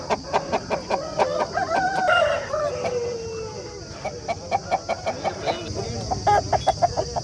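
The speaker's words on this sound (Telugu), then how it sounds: "మంచి షార్ప్ ఉంది పుంజు అయితే. కట్ట కట్ట కట్ట కట్ట అంటుంది." An Aseel fighting rooster at the Mydukuru Saturday poultry market gives a drawn-out crow, surrounded by rapid repeated clucking calls, loud and close, with faint market din behind.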